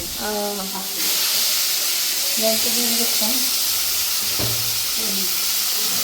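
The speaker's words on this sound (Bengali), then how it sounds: "ফ্রাই মশলা দিয়ে ফ্রাই করে দিয়েছে" A loud, steady sizzle of chicken with fry masala frying in hot oil in a pan fills the clip, with brief voices talking over it.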